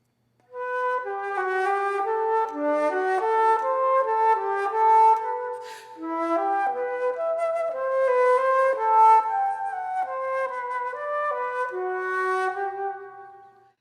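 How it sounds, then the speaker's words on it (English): A mellow, warm alto flute plays a smooth, flowing melody in a low breathy register, steady and unaccompanied. "The alto flute has a totally different personality."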